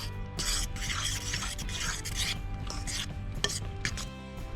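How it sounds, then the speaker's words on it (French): Matcha chocolate cake batter stirred steadily in a bowl, a close, continuous rubbing and scraping with a few sharper knocks, no talking. "Et on mélange tout. On va mélanger le tout."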